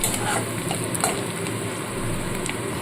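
Onion, ginger, garlic and green chili frying in a pan give a loud, steady sizzle with a few faint stirring scrapes, continuous for the whole stretch.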